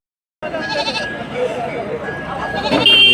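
Goats bleating at a crowded goat market on the Jharkhand–Uttar Pradesh border, several calls rising over a busy background of voices and movement, with a louder nearby bleat near the end.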